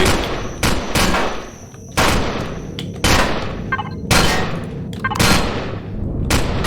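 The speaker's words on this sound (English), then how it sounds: "Oh, holy crap, they're shooting at the vessel." Sentry guns in Empyrion Galactic Survival fire on a vessel near an abandoned reactor, loud bursts of gunfire arriving in repeated volleys roughly every second, each with a sharp crack and a booming tail, no voices.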